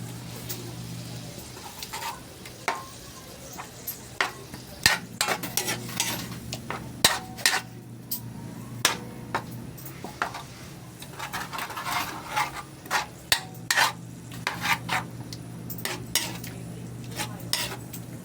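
Ground pork giniling stirred and cooked in a pan, with repeated irregular scrapes and clinks of a spatula against the metal over a soft background sizzle.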